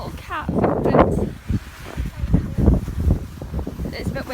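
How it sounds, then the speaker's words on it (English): Gusty wind buffets the microphone outdoors during a snowstorm in Scotland, rough low rumbling bursts under nearby people talking. "It's a bit windy, I'm sorry if you can hear that."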